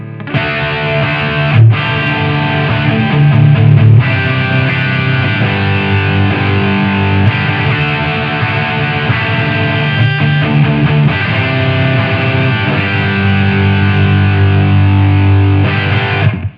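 A loud, heavily distorted electric guitar played through a Brunetti Pleximan amp with solo boost engaged plays a continuous, sustained lead line with thick overdriven tone and few pauses.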